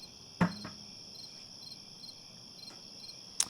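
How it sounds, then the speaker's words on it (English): Crickets chirp in a steady, high-pitched pulsing trill, heard alone between banjo songs, with a couple of brief soft knocks near the start and end. "With a little bit of crickets in between."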